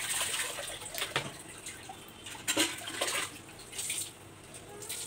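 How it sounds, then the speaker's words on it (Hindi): Dyed dupatta cloth being washed by hand in water, a steady wet splashing and sloshing with repeated swishes and brief surges, close by and fairly soft, with no talking. "सबसे पहले मैं धुलाई कर रहा हूँ"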